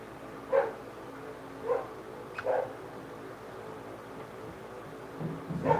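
A dog barks alone in a quiet indoor space, giving four or five short, faint yaps spaced about a second apart.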